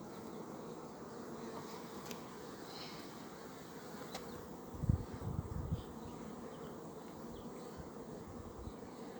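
A steady low drone of many honey bees humming at a hive, continuous throughout, with a brief louder swell near the middle.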